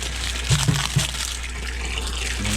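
Hot water gushes steadily from a tap into a container holding exhaust wrap rolls set to soak, a continuous close rush with a few soft low knocks early on.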